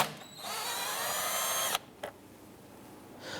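A 10mm socket tool whirs for about a second and a half while loosening a bolt on a 2008-2013 Nissan Rogue. It stops abruptly, a single short click follows, and the whole sound is faint and close.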